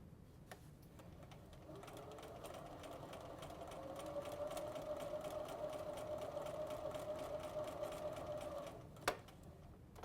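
A sewing machine stitching a curved quilt block seam runs steadily for about eight seconds with a fast, even needle rattle and motor hum. It is close and fairly quiet, starts and stops with faint clicks, and no one speaks.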